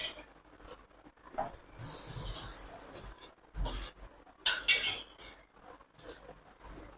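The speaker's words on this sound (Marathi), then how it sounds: "आता हे मी हलवायला सुरुवात केली" A spoon stirs raw mango pickle masala with mustard dal as oil is added bit by bit, giving scraping, clinking sweeps against a vessel in irregular bursts, near and moderately loud, with no talking.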